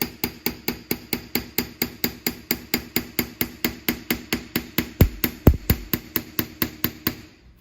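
Steady, evenly spaced hammer blows ring out on a steel sawplate laid flat on an anvil, roughly four strikes per second, close and sharp, with a few heavier thuds near the end.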